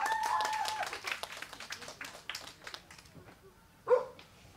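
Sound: applause welcoming a speaker

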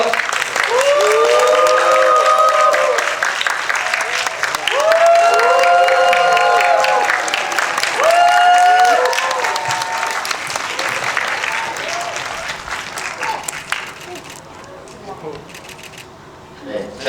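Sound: audience applause and cheering at movie stage greeting

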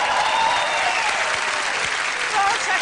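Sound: studio audience applause on a TV talk show

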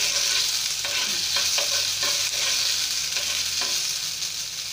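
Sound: stirring onion garlic paste frying in a pan

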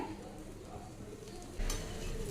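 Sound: soya chunk adai frying in oil on a pan

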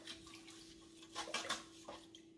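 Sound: spoon mixing seasoned food in a bowl

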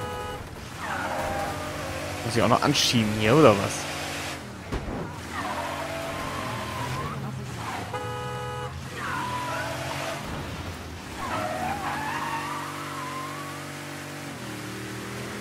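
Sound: car accelerating and skidding in video game Mafia III

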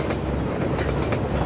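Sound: train passing in the video game Half-Life 2

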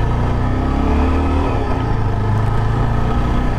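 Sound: Yezdi Adventure motorcycle accelerating in second gear

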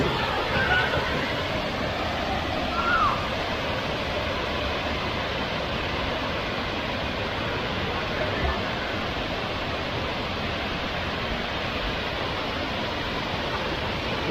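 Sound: Khlong Lan waterfall

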